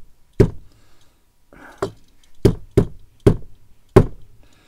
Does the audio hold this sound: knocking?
yes